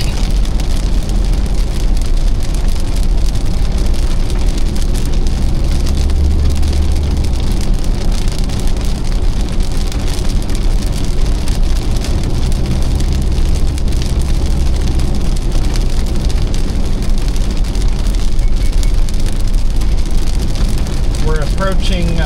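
Steady heavy rain drums on a car driving through a spring thunderstorm in Binghamton, with road spray and engine rumble forming a continuous loud wash throughout.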